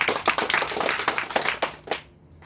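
Audience clapping at an Indonesian ceremony inducting new GPR MKS members, a dense run of hand claps lasting about two seconds before tapering off into quiet.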